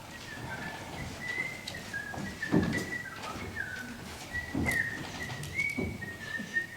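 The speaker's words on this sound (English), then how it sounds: "will you cut out that bloody whistling?" Someone whistles a wandering tune in short phrases, fairly close, over a busy background of rustling and occasional knocks.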